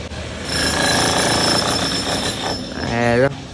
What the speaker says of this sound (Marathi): ड्रिल मशीन विन सगळा आवाज येतो बघा